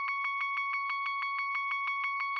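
A one-note synth melody in a hyperpop beat: a bright, steady electronic tone pulsing in a fast, even rhythm of about fifteen identical repeated notes, loud and clean with nothing else underneath.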